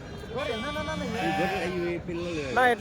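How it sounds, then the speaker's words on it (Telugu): A lamb bleats repeatedly at a busy weekly sheep and goat market, its wavering cries near and clear, with people talking over them. "పిల్ల గొర్రె"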